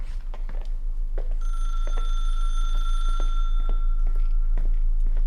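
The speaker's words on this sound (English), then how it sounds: "Oh, phone's ringing." An old-style telephone rings in the video game The Mystery of Rachel Foster, a steady repeated bell trill lasting a couple of seconds over a low ambient hum and scattered footsteps-like thumps.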